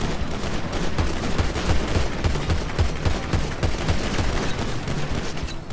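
Sustained gunfire at a gas station in a GTA roleplay game, dense overlapping shots crackling continuously at steady loudness throughout with no talk.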